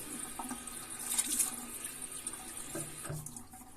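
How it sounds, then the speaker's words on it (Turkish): A tap runs steadily into a sink while a man wets his face before a wet shave, a soft continuous splash with brief handling sounds, close and fairly quiet. "Hemen bir yüzümü ıslatayım hafiften."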